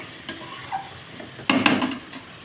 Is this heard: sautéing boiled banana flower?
yes